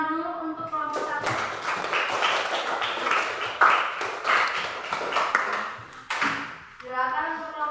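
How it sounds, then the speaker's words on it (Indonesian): Classroom of students clapping together for a group that has just finished presenting, a dense burst of applause lasting several seconds between stretches of a teacher's voice. "Tepuk tangan dulu untuk kelompok 1."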